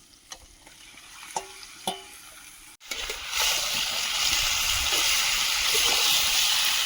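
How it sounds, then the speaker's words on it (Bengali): Poultry meat tipped into hot spiced oil, a few light clinks first, then a sudden loud, steady sizzle and hiss that keeps going close up. "মশলা থেকে তেল ছেড়েছে এখন মাংসটা দিয়ে দেবো"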